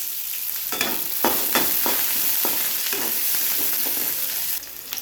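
Chopped onions fry with green chilies in a home kitchen pan while cooking carrot rice: a steady, bright hiss of sizzling oil runs throughout, broken by several sharp scrapes and clinks of a spoon stirring, with no talk.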